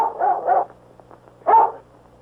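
A dog tied out at a barn in a 1947 Western barks in three sharp, close bursts, two quickly back to back and a third after a short pause, with no voices over it.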